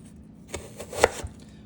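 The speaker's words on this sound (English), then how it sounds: "So if you are not familiar with cutting onions, I have a way." A kitchen knife chops onions for a lentil dish with ginger and garlic, giving a few sharp, close taps on a cutting board spaced irregularly, the loudest near the middle, with no talk.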